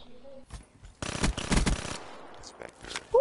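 Machine gun fire in a video game, a short rapid burst of shots lasting about a second, with scattered sounds and voices around it.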